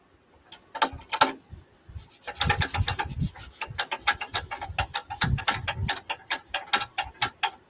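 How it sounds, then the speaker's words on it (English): A homemade spindle lock rattles loosely within a machine bed, giving bursts of quick metallic clicks and ratcheting taps, close and fairly loud, starting sparse and then settling into a steady irregular clatter with no talking. "if you hear a rattling, it's just my homemade spindle lock moving in between the middle of my bed"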